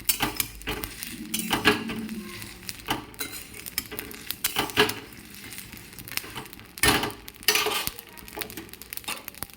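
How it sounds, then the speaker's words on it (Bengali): Dried red chilies fry in oil in a pan on lowered gas heat while making sweet potato ghugni, with a metal spoon clattering and scraping against the pan in uneven bursts over a faint sizzle. "লঙ্কা টঙ্কাগুলো আর একটু ভালো করে ভাজা হবে।"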